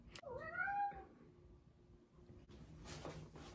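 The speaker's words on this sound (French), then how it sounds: "Je vous présente Milo le chat." A cat lets out one clear, drawn-out meow up close, followed by quiet rustling and soft household noise.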